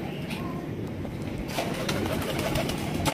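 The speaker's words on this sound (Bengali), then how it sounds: "একজোড়া সিলভার গোল্লা কবুতর রাজগোল্লা" A pair of silver Raj Golla pigeons coo softly and continuously at close range, set against a dense, noisy background.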